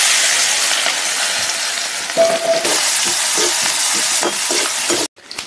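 Onions sizzle and fry in a pan over a gas flame while a home fish-fry dish is cooked, with a steady loud hiss and occasional stirring scrapes before a brief cutoff.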